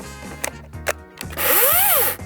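A small Dnipro-m 20V cordless mini chainsaw with a short bar revs up after a few quiet knocks. Its loud whining motor surges and dips in pitch for about a second before cutting off.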